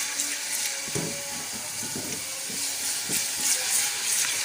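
Ginger garlic paste sizzles and fries in hot ghee over a raised flame, a steady close crackling hiss with a few soft stirring knocks and no talk.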